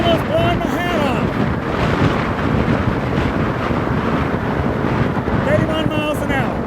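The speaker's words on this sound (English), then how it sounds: "The wind's so strong, it's almost blowing my hat off." Strong wind gusts roar steadily across the microphone during a ride on the road home, a loud continuous buffeting rush with a faint tonal whine rising and falling under it.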